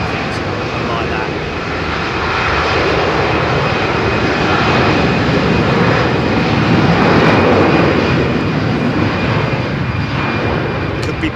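Jet engines of an airliner roar at Heathrow Airport. A broad, steady engine rumble swells and holds for the whole stretch, heard from some distance as the aircraft passes.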